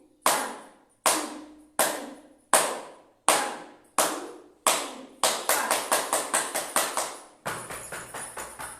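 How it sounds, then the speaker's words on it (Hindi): Hand clapping during a laughter yoga session: six slow, evenly spaced single claps, then a quicker run of close claps and a final rapid flurry, near and fairly quiet with no talk. "ताली बजाते हैं"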